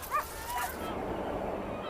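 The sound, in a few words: sled dogs barking and whimpering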